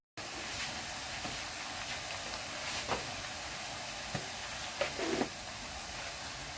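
Blended onion sizzles in a pot over low heat for Nigerian party jollof rice, a steady broad hiss that holds evenly throughout, with a few faint knocks and clinks.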